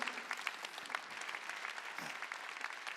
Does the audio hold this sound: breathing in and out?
no